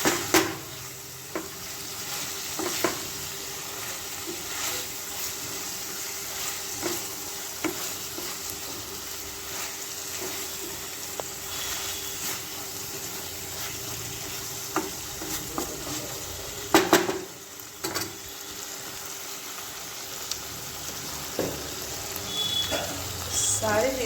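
Cluster bean curry is stirred and fried in a pan, with steady sizzling, repeated scraping strokes and occasional metallic clatters of the utensil against the pan under faint background talk.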